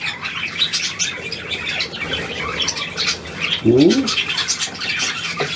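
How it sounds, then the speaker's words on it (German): A bald eagle lets out a loud, rasping squawk just past the midpoint, a brief harsh call close by amid soft rustling, with a man murmuring quietly around it. "Der Weißkopfadler, ne?"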